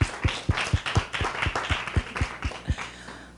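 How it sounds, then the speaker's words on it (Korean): A church congregation claps together at a Friday worship service to welcome back a young member, a steady run of about a dozen sharp, evenly spaced claps, fairly close and loud, with no talking over it. "우리 잠깐 박수로 환영하겠습니다"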